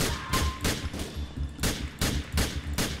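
Gunfire in the online mode of the video game GTA IV cracks out as a string of sharp shots in uneven bursts, about nine or ten reports within a few seconds, with no talk.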